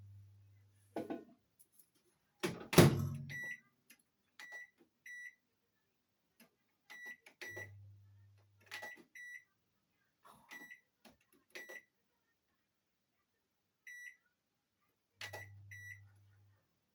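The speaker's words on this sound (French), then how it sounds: "on va le mettre pour 4 minutes à 600 watts dans le four à micro-ondes" A microwave oven set to 600 watts for four minutes gives off a series of short, bright beeps in small clusters, with brief low humming stretches and a clattering knock early on in an otherwise quiet room.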